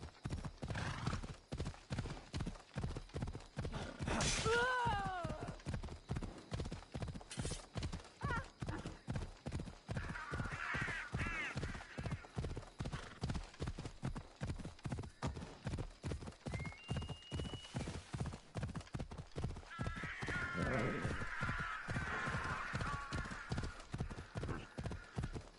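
A horse gallops in Assassin's Creed Odyssey, a steady rapid clip-clop of hooves running throughout, with a brief whinny and occasional faint voices over the game sound.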